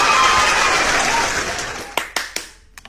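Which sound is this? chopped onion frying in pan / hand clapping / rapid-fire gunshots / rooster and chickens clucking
hand clapping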